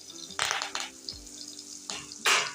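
Garlic roasting in hot oil for a tempering with asafoetida and curry leaves, sizzling in short bursts alongside a spoon stirring and scraping in the pan.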